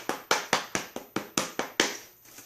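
A Wilton spatula pats sugar down into a clear plastic egg mold, giving about eight crisp, evenly spaced taps, close and fairly loud, with no voices.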